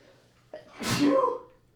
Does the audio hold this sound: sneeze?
yes